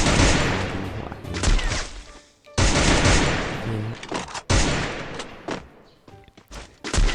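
Rapid bursts of gunfire from the Free Fire video game, loud and dense, in three volleys separated by brief gaps.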